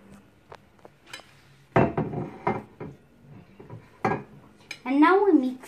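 Boiled potato and tuna dressed with oil being mixed in a bowl, heard as close clinks and knocks of a utensil against the dish, irregular and fairly loud, with no voices.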